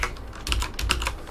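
Keystrokes on a computer keyboard while entering a short alias command in a terminal, a few close, crisp clicks in an uneven burst with no talk.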